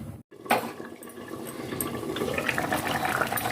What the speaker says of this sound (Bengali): এবার আমি জল দেবো